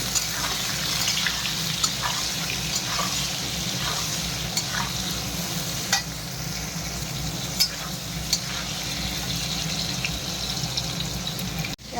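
Potatoes fry with salt and turmeric, giving a steady close sizzle with occasional stirring knocks and scrapes and a brief clatter at the very end.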